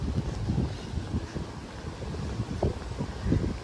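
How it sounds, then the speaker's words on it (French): Steady wind near a beach buffets the microphone in a continuous low rumble, rising and falling in gusts with no voices. "Il y a un peu de vent, je pense qu'on se rapproche de la plage."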